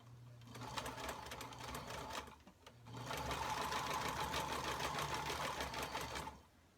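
A sewing machine stitches elastic onto a fabric face mask in two steady runs of rapid whirring, with a short pause between them, close and fairly loud.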